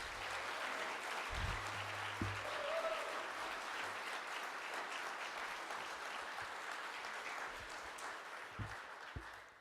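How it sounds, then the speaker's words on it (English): A crowd at a swearing-in ceremony for Baltimore's new police commissioner and fire chief gives a steady round of applause, a broad even wash of clapping that holds throughout and fades at the end, with a few low thumps beneath it. "Let's give both of them a big round of applause"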